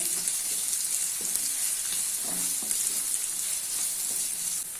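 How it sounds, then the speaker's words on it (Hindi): Onions fry in plenty of oil over a high flame for a mutton korma, a steady, close sizzle with a few soft stirring scrapes in the middle that drops slightly at the very end, and nobody talking. "इसको मैंने हाई फ्लेम पे 5 से 6 मिनट तक फ्राई किया है"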